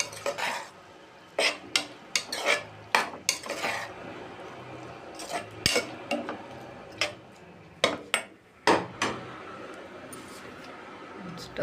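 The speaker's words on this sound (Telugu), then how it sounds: "కట్ చేసుకుని టమాటోస్ వేసాం కదా, ఇది కలుపుదాం" Chopped tomatoes are fried for a masala chaap curry as a utensil clatters and scrapes repeatedly against the pan in uneven bursts, over a quiet sizzle.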